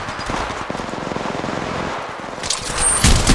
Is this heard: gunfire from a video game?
yes